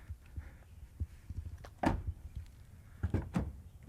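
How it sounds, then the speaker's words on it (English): The door of a Toyota Tundra truck with new floor mats shuts in a few dull thumps over a low background rumble, close and moderately loud. "And then if we go to shut the door"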